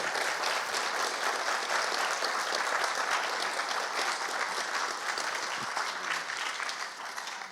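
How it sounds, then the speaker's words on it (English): Sustained applause from a crowd, steady and dense clapping throughout, tapering slightly toward the end. "perhaps we can have the first round of applause to Julie."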